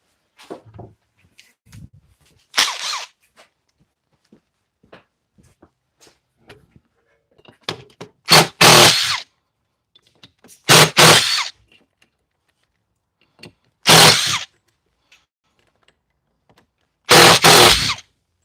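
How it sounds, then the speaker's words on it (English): An electric drill removing a lathe faceplate whirs in several short bursts, spaced a few seconds apart, close and loud, with quiet clicks and handling noises between them. "Get my drill. And just got to get this faceplate off."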